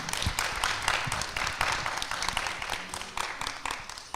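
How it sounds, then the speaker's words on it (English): Audience at a young entrepreneurs conference finance panel applauding, a steady, moderately loud patter of many hands clapping for several seconds. "Y'all clap it up for that."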